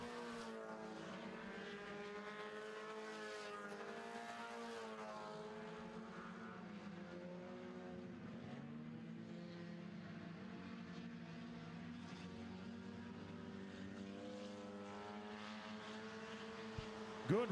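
Four-cylinder stock cars racing on a short oval track, engines droning and rising in pitch as they pass, fairly distant and steady throughout with no talking.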